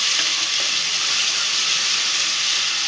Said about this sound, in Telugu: ఇప్పుడు డైరెక్ట్గా జింజర్ గార్లిక్ పేస్ట్ వేసేసుకోవాలి